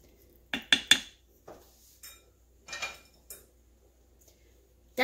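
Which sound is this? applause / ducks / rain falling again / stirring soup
stirring soup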